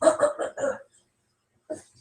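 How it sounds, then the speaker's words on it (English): A person coughs: a quick close run of four short, quiet coughs, then a pause and one more single cough. "Cover your mouth when you cough, remember?"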